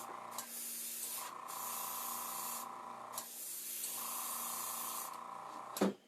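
Several long bursts of aerosol spray hiss steadily with short pauses between them, close and fairly loud, ending with a small clatter.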